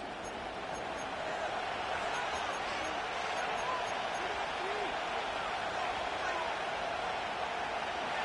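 Stadium crowd roar from an NFL Madden video game broadcast, a steady, dense wash of cheering and noise filling the whole stretch without a break, with a commentator's voice faintly under it.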